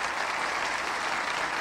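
Steady, dense audience applause from a live concert recording, a continuous wash of clapping at an even level throughout with no voices.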